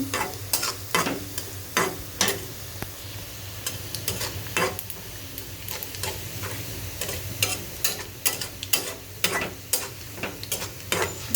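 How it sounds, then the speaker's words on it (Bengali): Garlic frying in oil for haleem, a constant sizzle cut by regular sharp scrapes and taps of a spoon stirring the pan, close and rhythmic, with no speech. "রসুনগুলোকে আমি ভালো করে ভেজে নিচ্ছি।"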